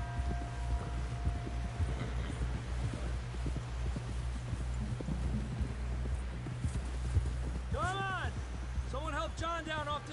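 Steady clip-clop of horse hooves trotting along in the video game Red Dead Redemption, with a low rumbling bed underneath and a couple of brief warbling calls near the end.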